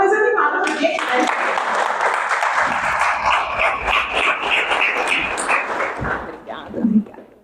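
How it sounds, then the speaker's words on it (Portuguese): An audience gives a round of applause at an anxiety and procrastination talk, a dense burst of clapping that swells and then fades out over several seconds. "eu quero dar uma salva de palmas para nós e para a Larissa"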